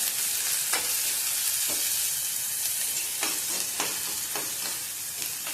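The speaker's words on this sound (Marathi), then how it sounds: "हे चांगलं तेलात भाजून घ्यायचं आहे।" Green chillies and garlic cloves fry in oil for a ridge gourd chutney, a constant bright sizzle broken by several soft scrapes of a stirring spoon, close and steady with no talking.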